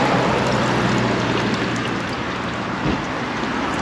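Water runs to rinse a campervan toilet cassette at a service point, a loud, continuous rushing spray that holds steady throughout, close by.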